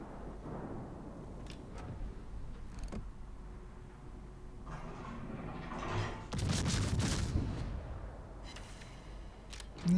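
Warship guns fire in World of Warships, with a few scattered booms and a louder burst of heavy gunfire near the end over a low mechanical rumble.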